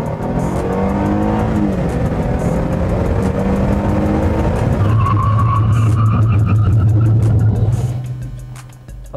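A 2012 Mercedes-Benz E-Class Coupe skids on a test drive, loud and close, with a roaring, revving engine and sustained tire squeal that ease off near the end.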